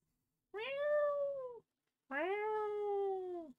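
A human voice imitates a cat, giving two drawn-out, whiny meows separated by a short pause, close and clear with no other sound around them.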